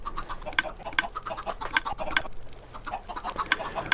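Chickens in a video game cluck in repeated short bursts, with a large flock of about 300 birds packed together, forming a fairly loud, busy chorus with no talk over it.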